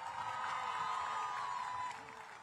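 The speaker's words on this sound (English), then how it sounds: "Let's give a big round of applause to this incredible group of young men" A crowd at a Jersey City parade honoring a young men's basketball team claps and cheers as a dense, steady wash of applause that holds for about two seconds, then begins to fade.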